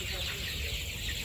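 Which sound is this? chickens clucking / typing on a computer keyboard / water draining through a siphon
chickens clucking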